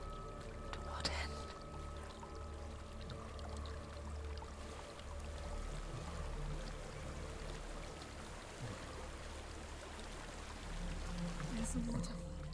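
A steady, broadband wash of falling water from a waterfall in the dark fantasy game Hellblade: Senua's Sacrifice fills the scene continuously at moderate volume, with faint low ambient drones and a few soft incidental sounds.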